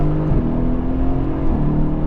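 A Mercedes-AMG GT S revving inside a tunnel: a loud, dense engine roar with rising and falling pitch sweeps, heard from inside the car, reverberant and continuous, with no talk over it.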